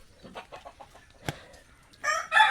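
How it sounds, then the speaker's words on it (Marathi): Several soft hen clucks close by at a farm near Ajoba Parvat, a sharp bird call midway, then a loud rooster crow rising at the end. "इथे शंभर पन्नास तरी कोंबड्या असतील आमच्या"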